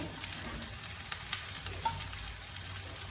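Mustard seeds sizzling in about three tablespoons of hot oil in a pan, a steady dense crackle and hiss with scattered pops, close and continuous with no talking.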